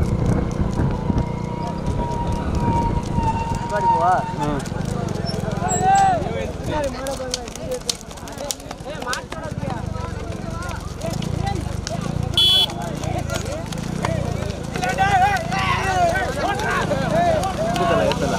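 Bulls' hooves pound along in a rekla cart race in Thanjavur district, a rapid irregular clatter heard amid wind buffeting, engine noise and excited shouting and commentary from people nearby throughout.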